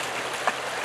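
Roaring Brook, a forest creek in Pennsylvania, flowing as a steady broadband rush of water with a small splash in the middle, constant and close.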